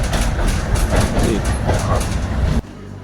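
A nearly empty evening tram ride in Kharkiv gives steady, loud rolling rumble and rhythmic clickety-clack of wheels on rails, broad and continuous, cutting abruptly to a quieter low hum near the end.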